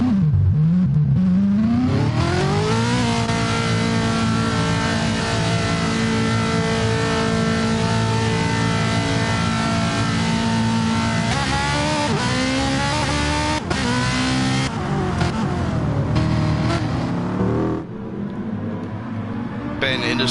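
Race cars in GT Sport pull onto the Red Bull Ring for the second race, a steady loud engine drone with rising revs and shifting pitch throughout, overlaid by continuous game audio.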